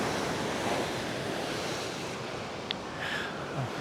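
Ocean waves surging on a beach in Fuerteventura under steady wind buffeting the microphone, a continuous loud wash with a brief higher sound near the end.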